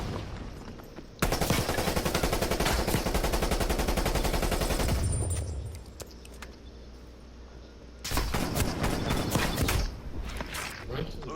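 Dense automatic gunfire from the video game Call of Duty: Black Ops Cold War, with long rapid bursts that cut off abruptly, a quieter mechanical pause, then another loud burst of sustained shooting.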